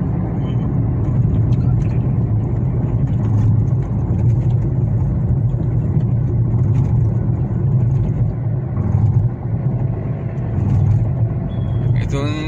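A car drives fast along an open, traffic-free road near Solapur. A loud, steady engine and road rumble continues throughout, with voices talking over it.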